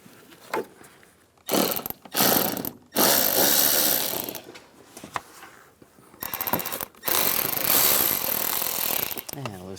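A ratchet with an 8mm socket loosens a worm clamp on a hose of a Cadillac SRX, heard as loud, rough bursts of rapid ratcheting separated by brief pauses and quieter handling.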